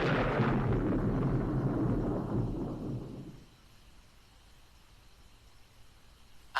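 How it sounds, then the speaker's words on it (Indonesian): Thunder rumbles over a house during heavy late-afternoon rain, a loud low roll that lasts a few seconds and then fades into quiet, with a faint sharp knock at the very end. "Sesekali terdengar suara guntur yang bergemuruh."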